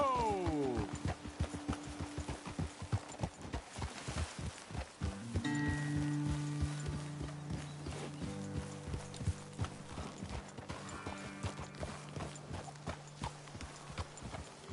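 Horses in the Red Dead Redemption 2 video game walk with a steady clip-clop of hooves over ground, close and continuous, with faint tack and creaking sounds around them.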